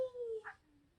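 A fluffy sled dog in the film Togo lets out a short howling whine that slides downward and fades into a faint whimper, close and brief.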